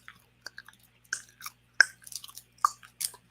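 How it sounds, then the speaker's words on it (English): Close, quiet chewing of bubble gum, with moist smacking and small crunchy bites coming in irregular bursts and short pauses, and no talking. "Oh, I'm chewing right now the bubble gum"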